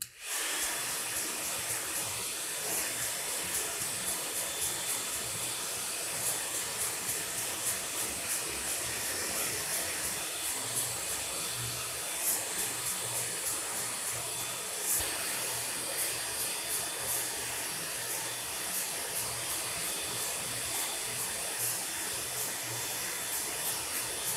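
A hair dryer blows steadily and loudly throughout, a continuous whooshing hiss with no talking over it.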